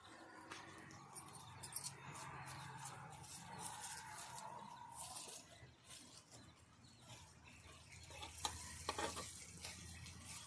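Paneer paratha frying in butter on a pan, heard as a faint continuous sizzle with scraping and stirring noises as it is flipped.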